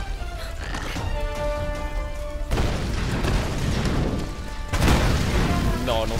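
Dynamite crate explosion in the Tomb Raider video game on PS4, heard as two heavy booming blasts a couple of seconds apart, each with a broad rumbling tail, under background game ambience and no speech.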